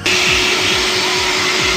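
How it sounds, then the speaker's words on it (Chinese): A hair dryer blows hard and continuously at close range, a loud, steady rushing whoosh with a faint motor whine and a soft pulsing rhythm underneath. "用吹风机也可以。"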